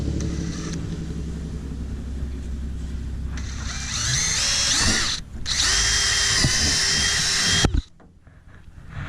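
A power drill whines and revs while driving metal eyelets into a homemade catfish bank pole, with steady running, a brief pause, then more high-pitched drilling before stopping.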